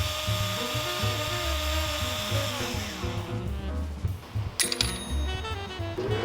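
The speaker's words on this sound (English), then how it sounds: "Steel brushes are used to polish off any remaining corrosion on the inner surface." Steel brushes spin against the inner surface of a brass resonator to polish off corrosion, giving a steady whirring, buzzing hum close by that shifts pitch and turns rougher and more scratchy toward the end.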